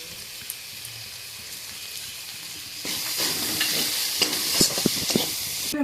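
Bombay duck fish filling with ground spices is stirred in a pan, starting as quiet scraping before a louder hissing sizzle rises midway, with sharp clinks of the spoon against the pan.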